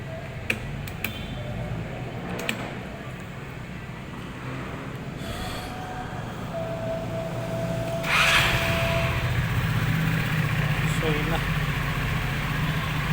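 A motorcycle engine idles and runs in a low steady rumble, picking up a bit louder partway through, with a few clicks early on and someone talking over it.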